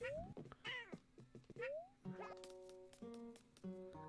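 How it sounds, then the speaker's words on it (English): A pet cat meows repeatedly in rising, drawn-out cries, close and fairly loud, with a few short tonal beeps near the end and no talk over it. "Can you hear my cat meowing?"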